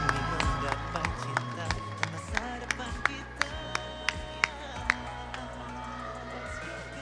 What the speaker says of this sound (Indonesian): kembali beri tepuk tangan yang sangat meriah untuk SMA